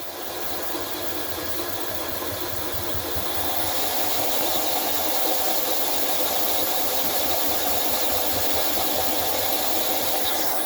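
A marble polishing machine running with 200 grit cups on a vintage German swirl marble gives off a steady, hissing whir with a grinding rasp that swells slightly after a few seconds and then holds constant.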